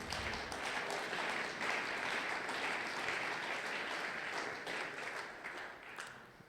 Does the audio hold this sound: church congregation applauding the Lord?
yes